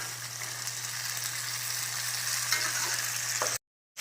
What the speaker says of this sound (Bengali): এবার দিয়ে দিলাম ভেজে রাখা মাশরুমগুলো।